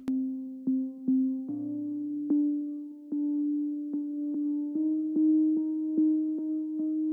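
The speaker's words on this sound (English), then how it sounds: "The first one is this sine pluck." A soft sine pluck patch built in Serum taps out short rhythmic notes over a held tone, clean and mellow with gentle attacks and quick decays, quiet and alone.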